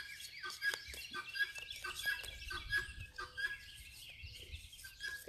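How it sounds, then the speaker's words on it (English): Guinea fowl call in the background, a quiet run of repeated sharp, scratchy chirps and clucks in a loose rhythm, heard at a distance with no one speaking. "in the background, that noise you hear is my guineas"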